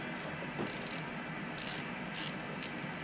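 A ratchet with an extension works a power steering pump bolt on a 2003-2007 Honda Accord 2.4L, giving several short bursts of quick metallic clicking over a quiet garage background.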